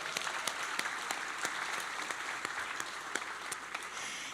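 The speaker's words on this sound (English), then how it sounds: "Let's give another round of applause for San Francisco Mayor London Breed." Audience at a San Francisco Chamber of Commerce breakfast applauding the city's mayor: a steady wash of many hands clapping at moderate distance, even and sustained throughout, with no voices over it.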